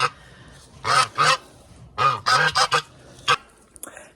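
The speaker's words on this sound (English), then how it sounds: "Had to feed the geese." Loud geese honking nearby in several bursts, a pair of calls, then a cluster of four, then single honks trailing off.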